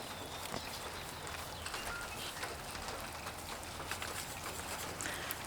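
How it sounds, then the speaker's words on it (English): Steady patter of rain drumming on an old tin roof, dense and continuous with scattered sharper taps throughout, no voices. "Nothing like rain on an old tin roof"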